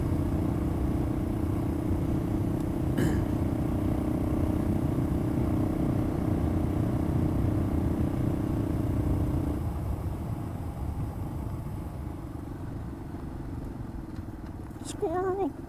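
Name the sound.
Yamaha XT225 motorcycle riding on rough dirt road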